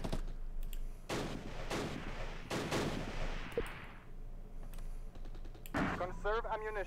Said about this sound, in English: The Polish rifle group is still firing and fighting